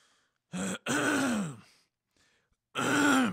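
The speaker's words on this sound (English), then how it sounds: "Clearing my throat." Throat clearing: a few rough, throaty bursts with a short pause between them, close and fairly loud, with no speech.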